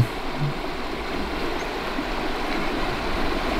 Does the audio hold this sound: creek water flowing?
yes